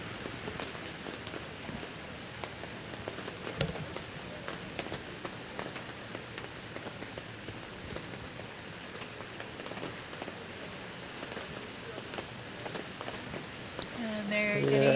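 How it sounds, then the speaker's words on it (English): Heavy rain falls steadily at an outdoor university track and field meet, a dense even hiss of drops on surfaces lasting throughout, with scattered taps and faint background sounds. "it sounds like the rain's getting even harder"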